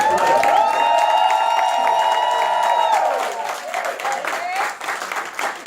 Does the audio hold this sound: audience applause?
yes